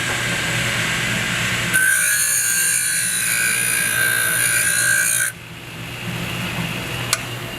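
A power piston ring filer grinds a piston ring for several seconds, a high, steady whine over a constant motor hum that stops abruptly, followed by a low idle and a single small click.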